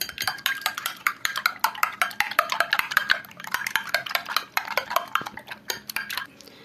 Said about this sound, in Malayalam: ഒരു മുട്ട ഇവിടെ എടുത്തിട്ടുണ്ട്. നല്ലപോലെ അത് ഉടച്ചു കൊടുക്കാം